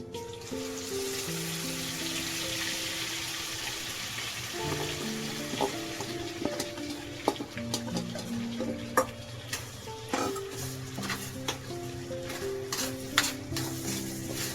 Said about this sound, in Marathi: तेल सुटूपर्यंत परतून घेऊया